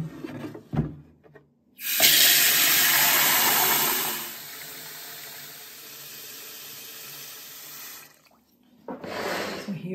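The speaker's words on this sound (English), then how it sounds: "I can just pop it in the sink and fill it with hot water" Hot water gushing from a tap into a kitchen sink, a loud rushing pour that eases into a steadier flow, with clunks and handling noises before and after.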